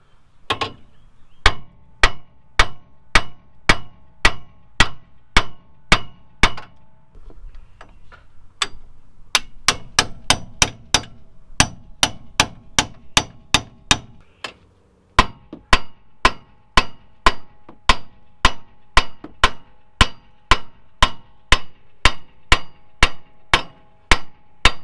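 Steady metallic hammer blows strike at a quick, regular pace, hammering out ball joints on a 1999-2004 Ford F250/350 truck, pausing briefly midway with some clattering before the rhythmic pounding resumes, close and loud.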